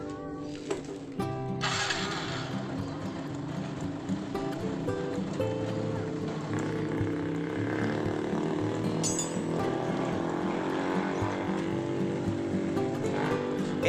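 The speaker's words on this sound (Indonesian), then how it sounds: "motor udah hidup, ini udah hidup, dia langsam" A Honda Revo Absolute motorcycle engine starts with a clatter and settles into a steady, close idle that runs on evenly under faint workshop noise.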